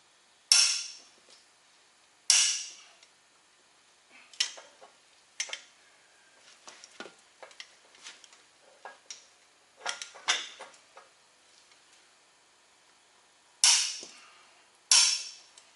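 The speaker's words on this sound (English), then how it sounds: "So we got our torque wrench set up here, 300 pounds of torque." A torque wrench set to 300 foot-pounds on a truck wheel-end repair gives several loud, sharp clicks spaced seconds apart, with softer ratcheting ticks and small mechanical creaks between them in a quiet shop.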